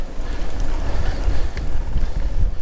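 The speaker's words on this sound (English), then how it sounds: "This wind is really getting up" Strong wind buffets the microphone of an electric bike rider out along a field path, a loud, continuous low rumbling roar with gusty flutters and no voices.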